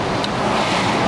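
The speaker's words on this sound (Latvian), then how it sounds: "Un šis ir dviņu ūdenskritums." Twin waterfall pouring steadily at a crowded tourist site, a constant broadband roar of falling water with wind buffeting the microphone, no voices.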